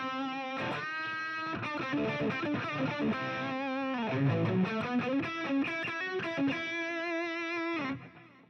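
Electric guitar solo through a Fender Tonemaster Pro preset with boost, delay and reverb, a sustained distorted lead line bending and ringing continuously, loud and close before cutting off at the end.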